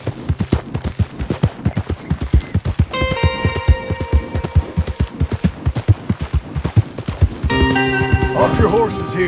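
Horses galloping in Red Dead Redemption 2, a fast steady clip-clop of hooves throughout, with voices speaking and a musical score rising over the hoofbeats.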